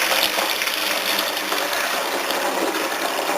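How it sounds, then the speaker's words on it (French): Warm tap water at about 45 degrees pours straight from the faucet into a metal container for a water bath, giving a steady, loud rushing gush with no pauses. "je rajoute de l'eau à 45-46 degrés qui est issue du robinet"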